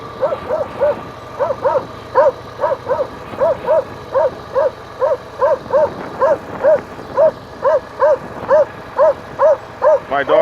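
A dog barks at a passing bicycle, a long run of sharp, evenly spaced barks nearly a second apart, loud and close with no talk over them.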